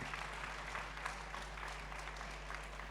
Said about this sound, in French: Je crois qu'on peut les applaudir justement pour la qualité des échanges.